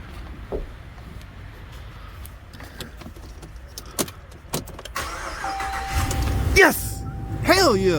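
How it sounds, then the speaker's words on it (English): A Dodge Ram 1500 with a V8 Hemi that had stalled while driving cranks and starts near the end, its engine rising over a background of clinks and key jangles, close and fairly loud. "This truck should start."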